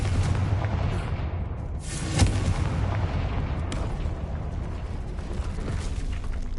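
The Confringo fire blast spell exploding in the video game Hogwarts Legacy: a deep, boomy blast with a rumbling tail over steady game ambience, followed by a sharper burst a little later, with no speech.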